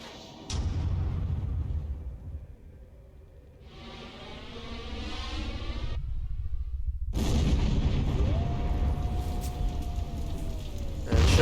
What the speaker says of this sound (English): And shutting the doors resulted in an explosion.